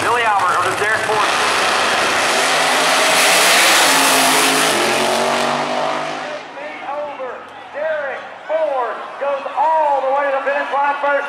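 A final pair of Pro Nitrous drag race cars launch with a huge roaring blast that dominates for several seconds, then fades into the distance as a loud announcer talks over the crowd noise.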